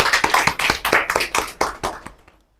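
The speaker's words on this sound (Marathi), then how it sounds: "यांसाठी जोरदार टाळ्या होऊन द्या" An audience applauds at a Ramabai Ambedkar birth anniversary tribute and felicitation gathering: a burst of brisk, fairly loud clapping with sharp rhythmic hand claps that thins out and fades to silence within about two seconds.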